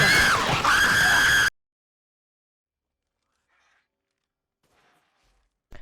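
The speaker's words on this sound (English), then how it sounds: "Stop screaming! Stop!" A person screams loudly during a tense moment in the horror game Resident Evil Village; a single harsh, sustained scream lasting about a second and a half, then cutting off into near silence.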